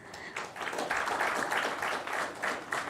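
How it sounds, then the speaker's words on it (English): Audience applause welcoming panelists to the dais at a workshop on transit-oriented development, a moderate round of clapping from a seated crowd in a hall, steady for a few seconds with distinct claps standing out. "Please welcome them with a big round of applause."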